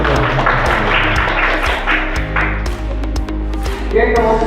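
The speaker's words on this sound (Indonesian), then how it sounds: "kita kasih tepuk tangan buat kelompok" A classroom group claps for the second discussion group, scattered hand claps and taps over a steady low hum, with a voice speaking briefly alongside.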